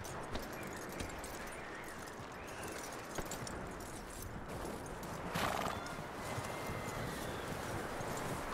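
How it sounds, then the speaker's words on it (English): A horse whinnies loudly partway through, in the video game Red Dead Redemption 2, over a dense bed of ambient noise, with light hoof clops and rustling around it. "That looks like a decent horse."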